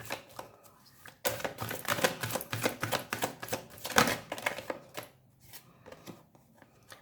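Tarot cards are handled and drawn close by, a dense run of crisp flicks, slaps and shuffling rustles that starts suddenly and goes on for several seconds before easing into softer scattered taps.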